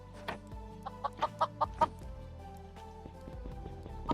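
Minecraft chicken clucking repeatedly in short, bright bursts, a quick series of evenly spaced clucks over a faint game music background, fairly clear and close.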